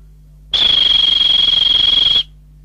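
A single loud, shrill whistle blast, steady and piercing, lasting about a second and a half before stopping abruptly.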